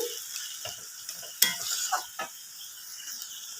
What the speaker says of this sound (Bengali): এবার আমি একটু ভালো করে কষিয়ে নেব, সমস্ত উপকরণগুলি যাতে মশলার সাথে মিশে যায়